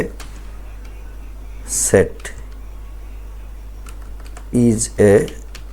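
Typing on a computer keyboard while writing web design notes in Windows, heard as two short bursts of close, crisp key clicks separated by a quiet room hum.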